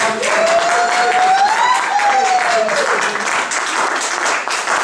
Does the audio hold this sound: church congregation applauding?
yes